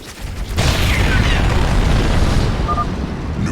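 A nuclear silo blows up in StarCraft 2, a loud sudden blast followed by a sustained roaring rumble and crackle that slowly fades.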